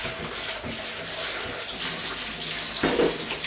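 A kitchen tap runs while a plastic item is rinsed under it, making a close, continuous gushing splash that shifts in tone as the water hits the object.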